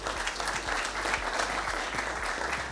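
Steady applause from an audience at an engineering open house in Barcelona, a dense continuous patter of many hands clapping throughout, fairly close, with no speech.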